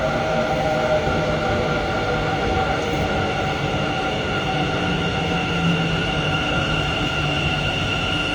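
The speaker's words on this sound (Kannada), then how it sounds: "ನೋಡಿ ಬಂತು ಟ್ರೈನು ಮೆಟ್ರೋ ಟ್ರೈನ್ ಬಂತು" A metro train arriving in Bengaluru rumbles steadily close by with a sustained mechanical hum and faint squeal, continuous throughout.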